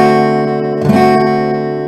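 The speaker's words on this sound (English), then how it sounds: "It's going to sound like this. I'm going to strum four strings." Four guitar strings strummed together at a lesson, one strum ringing out sustained and loud with a brief scrape midway, no talking.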